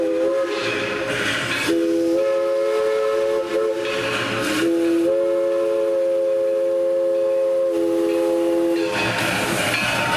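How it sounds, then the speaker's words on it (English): A 1916 East Broad Top Railroad No. 16 steam locomotive, a Mikado type, blows its whistle in three long chime blasts, separated by short breaks, over a constant loud hiss of steam, heard close with no voices. "We have another locomotive built in 1916, the East Broad Top Railroad locomotive number 16."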